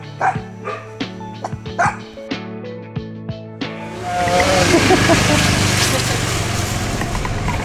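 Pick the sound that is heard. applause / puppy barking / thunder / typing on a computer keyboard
puppy barking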